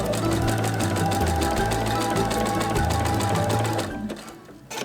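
A sewing machine stitching a vest neckline with lace, fast rhythmic needle clatter running loud and close, then stopping near the end.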